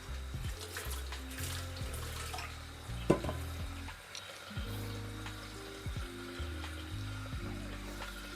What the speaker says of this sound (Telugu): నాన్ వెజ్ కదా, హ్యాండ్స్ వాష్ చేసుకోండి ఫస్ట్